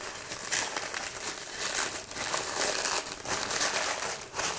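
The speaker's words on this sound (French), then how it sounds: "on va venir ouvrir feuille par feuille. Donc en faisant très attention parce que le papier crépon est assez fragile." Sheets of fragile crepe paper being opened one by one to fluff up a paper flower, giving close, continuous crinkling and rustling with small bursts of crackle and no voices.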